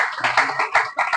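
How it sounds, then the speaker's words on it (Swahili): At a business conference in Naivasha, an audience gives a few quick, close rounds of clapping for a shop owner named Jane, in short uneven bursts. "To appreciate Jane kwa makofi"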